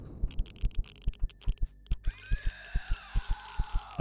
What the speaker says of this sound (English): I can hear your heartbeat.